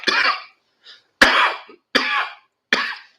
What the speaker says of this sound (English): And my first cough.